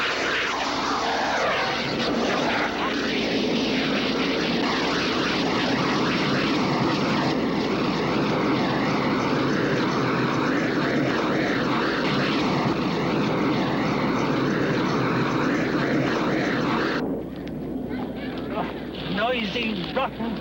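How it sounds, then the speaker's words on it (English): A jet aircraft engine roars loudly and continuously during takeoff, a dense steady rushing drone that holds for most of the stretch before easing slightly near the end. "Noisy, rotten jet."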